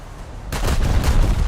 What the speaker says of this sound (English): What are those big old explosions?